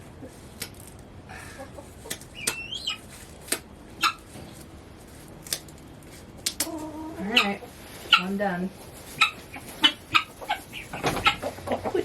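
Mother hen in a backyard garden making short clucks and soft throaty calls, scattered close by among clicks and rustling, while a person talks at times.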